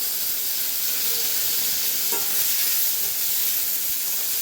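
Onion and a whole tomato frying in a little oil, giving a loud, continuous close hiss and sizzle with faint stirring scrapes underneath.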